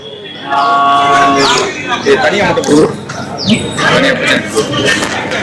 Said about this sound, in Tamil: இது வந்து பர்கூர் மாடுங்க.